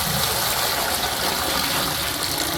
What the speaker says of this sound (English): Water from our well.